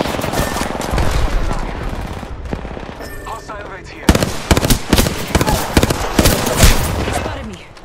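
Automatic weapon fire in the video game Apex Legends, rapid bursts of gunshots with a brief lull before heavier, louder shots resume, mixed with game effects and occasional voice lines.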